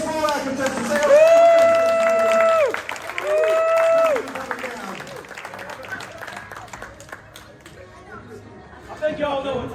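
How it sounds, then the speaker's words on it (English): A crowd applauds and cheers for contestants at a live mullet championship event in Tunica, Mississippi, with loud whooping vocal cheers over clapping and chatter, then quieter babble as the noise settles. "A round of applause for all our contestants"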